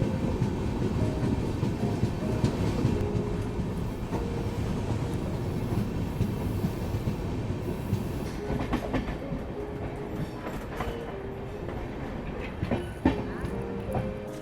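The Khajuraho Express rolls into Mahoba Junction with a steady loud rumble of wheels and carriages, rhythmic clickety-clack and occasional clanks growing sharper as it slows; voices murmur faintly underneath.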